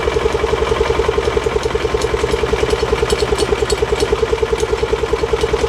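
A small engine runs steadily after being started, a close, loud, evenly pulsing chug with a rough mechanical rattle, continuous throughout with no voices.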